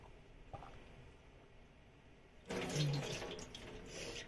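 Cold tap water gushes from a faucet in a Japanese home, a steady broadband splash starting suddenly midway and continuing loud and close after a quieter lead-in.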